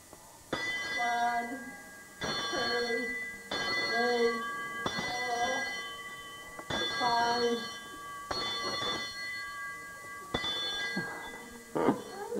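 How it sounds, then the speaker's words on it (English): A ringing bell sounds in a series of about seven clear, resonant strikes at fairly regular intervals of a second or two, each note decaying before the next, with faint background activity. "Ring that bell."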